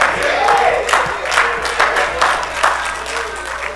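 Church congregation at a Baptist service clapping hands in praise, scattered and irregular claps under a busy crowd murmur and voices, steady and close throughout.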